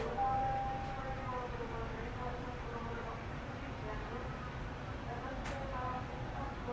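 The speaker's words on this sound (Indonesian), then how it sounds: "Itu kereta Arjonegoro ya yang berangkat" The Arjonegoro train departs a Surabaya station toward Bojonegoro with a steady low rumble and rolling hum, heard at a quiet distance from inside another train, along with a couple of brief sharp clanks and a faint tone.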